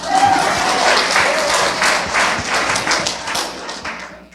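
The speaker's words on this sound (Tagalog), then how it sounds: "Salamat sa 5 pumalakpak." A small congregation in a church applauds, dense scattered clapping close by that gradually thins out, mixed with a few thumps and faint voices.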